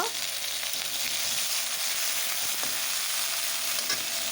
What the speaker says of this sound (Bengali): পনির টুকরোটা এখন আমি ভাজি করে তুলে নেব